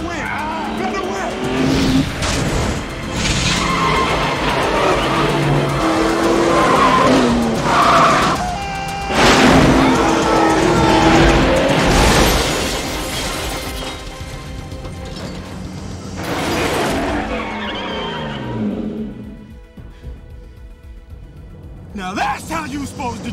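Cars in a 1990s action-movie chase scene skid and screech with engines roaring and metallic clunks, loud and close, under frequent shouted voices and a tense score that fades near the end.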